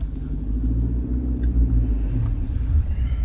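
A car engine rumbles steadily on a road near Manali, a low continuous drone that stays fairly loud and close for the whole stretch, with no talking over it.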